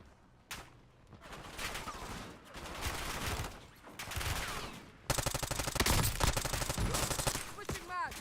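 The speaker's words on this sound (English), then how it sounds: "Taking effective fire." Sustained gunfire in a military shooter game, with dense automatic bursts and rapid fusillades that swell and grow louder and more continuous toward the end, heard under brief talk.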